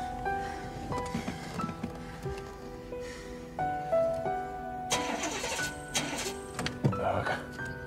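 A car engine cranks repeatedly but fails to start, a close mechanical grinding that stops and restarts in several bursts over a steady background hum, with no speech.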